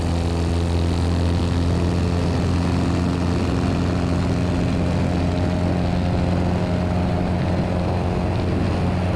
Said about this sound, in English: that's still a short takeoff